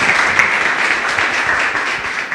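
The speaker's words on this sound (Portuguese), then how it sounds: "Louve a Deus com as suas palmas, que assim seja." A church congregation claps together through a Portuguese-language service, a dense, steady wash of many hands that stays loud and even from start to finish, with no talking over it.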